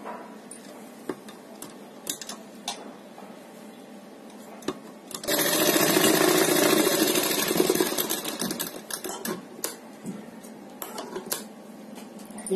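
A sewing machine stitches fabric for a neck design, starting with scattered clicks and taps before a steady, fairly loud run of stitching for about three seconds, then falling back to intermittent handling clicks.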